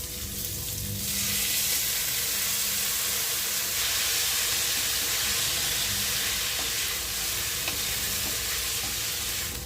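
Gobindobhog rice and moong dal fry in mustard oil with spices, giving a steady, loud broadband sizzle with hissing steam that persists throughout, without talk.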